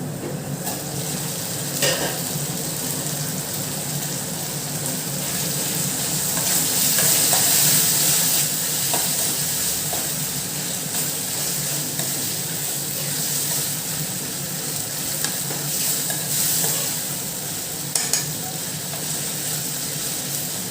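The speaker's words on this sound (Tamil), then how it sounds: "இந்த தக்காளி வதங்கிறதுக்கு மட்டும் போட்டால் போதும்." Chopped tomatoes sauté in a hot pan, giving a steady soft sizzle with occasional stirring scrapes and clinks, close and continuous, without speech.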